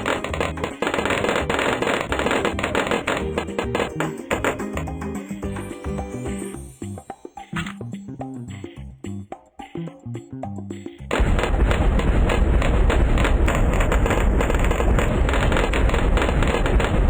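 Bomb shooter towers in a Bloons Tower Defense game fire a rapid stream of loud, crackling explosions that pop like firecrackers, thin out briefly in the middle, then return in a denser, heavier barrage.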